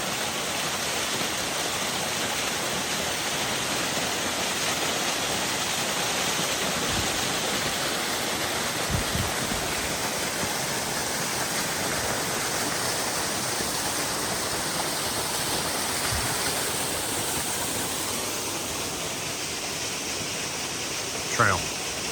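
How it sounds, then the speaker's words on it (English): The Swift Water waterfalls on the Franconia Ridge trail give off a steady, broad rush of falling water that holds even and loud throughout, with faint brief sounds now and then over the roar. "I do believe that's called Swift Water Waterfalls."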